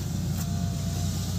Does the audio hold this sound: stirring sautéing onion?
no